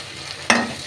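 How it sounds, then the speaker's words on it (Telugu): Okra pieces in a frying pan give one sudden, close scrape and sizzle burst that fades over a fraction of a second. "ఇప్పుడైతే బెండకాయ ముక్కలు ఫ్రై అయిపోయాయి"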